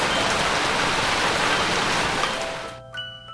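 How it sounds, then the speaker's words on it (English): Heavy rain pours in the game Hatoful Boyfriend, a dense, loud hiss of falling water that fades out near the end, leaving a soft electronic tone. "Don't you think the rain's getting a little heavier?"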